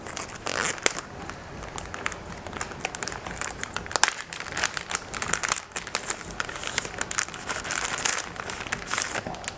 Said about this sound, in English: So let's unpack it.